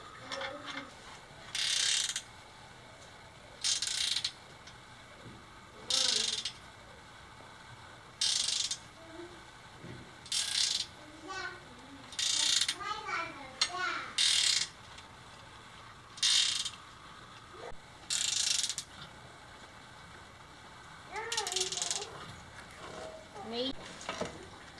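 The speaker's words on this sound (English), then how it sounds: "Be able to use the ratchet. Like go backwards." A ratchet clicks in short, loud bursts of rapid clicking with quiet gaps between them while a steel table is built from leftover steel, and a few faint metallic squeaks and clinks come between the bursts.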